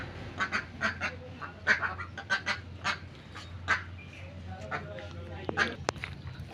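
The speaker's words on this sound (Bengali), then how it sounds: "এখন হাঁসগুলা ফিটগুলো সব খেয়ে ফেলবে। দেখেন কিভাবে খায়।" Ducks quack in repeated short bursts while eating poultry feed on a farm, nearby and fairly loud, with a steady low hum underneath.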